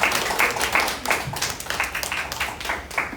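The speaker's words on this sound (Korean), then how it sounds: "박수." An audience at a Korean lecture event gives a short round of applause, with dense, steady hand clapping close by, alone without voices, for about three seconds.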